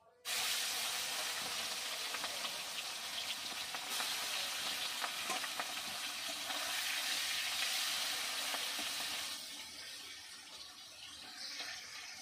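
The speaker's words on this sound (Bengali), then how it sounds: "মাছগুলো ভেজে নেব" Prawns fry in mustard oil in a hot wok, giving a steady close hiss and crackle that holds for most of the stretch, then eases slightly toward the end.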